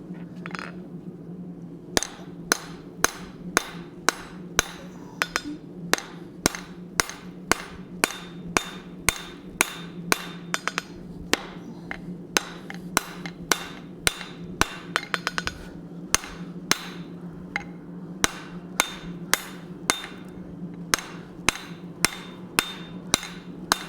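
A blacksmith's hammer forges hot steel on an anvil while a hot cut hardy is made, ringing out in a long, loud, close run of sharp, evenly spaced strikes over a low steady hum, with no talking.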